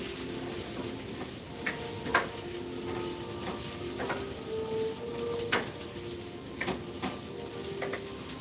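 Chopped onions and celery sauté in a pan, giving a steady soft sizzle with occasional light clicks and scrapes of stirring, close and moderately quiet.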